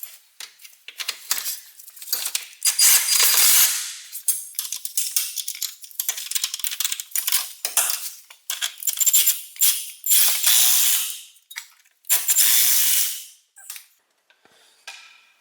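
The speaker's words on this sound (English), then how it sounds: "we're going to use our impact gun" Impact gun fastening a control arm bolt during a suspension repair on a Mazda 3, heard as repeated sharp rattling bursts of varying length, loud and close, with no talking.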